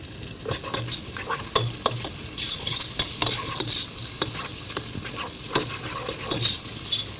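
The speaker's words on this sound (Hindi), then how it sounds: "अब जीरे के साथ साथ प्याज और हरी मिर्च की कॉम्बिनेशन, तीनों चीजें एक साथ पक रही हैं" Onion, green chili and whole cumin frying together in a pan, a close steady sizzle broken by frequent scraping stirs and clinks of the spoon.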